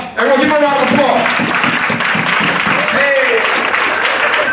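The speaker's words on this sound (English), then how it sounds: "Everyone give him a round of applause." A room full of people applauds and cheers for a guest at a student leadership winter workshop, a dense, steady wash of clapping mixed with shouting voices that lasts the whole stretch.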